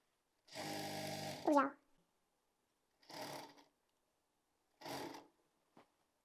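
A sewing machine stitches the margin of a gharara in three short bursts. The first is the longest and winds down at its end, and silence falls between the runs.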